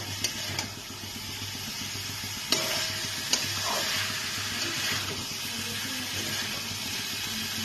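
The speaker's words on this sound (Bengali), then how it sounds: "আলু আর ফুলকপিটাকে দিয়ে কিছুক্ষণ আমি কষিয়ে নেব।" Potato and cauliflower pieces sauté in a pan for an aloo fulkopir jhol, a constant sizzle under repeated stirring scrapes and a few sharp clacks of the spoon against the pan.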